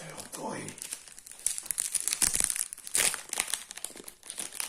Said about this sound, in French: maintenant, on va pouvoir ouvrir le légendaire booster doré